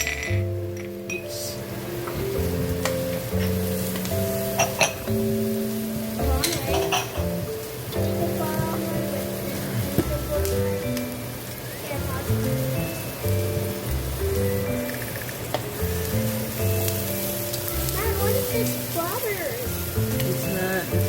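Pork binagoongan being stirred in a cooking pan, with steady sizzling and frying, utensils clinking and scraping against the pan, and voices talking intermittently in the background.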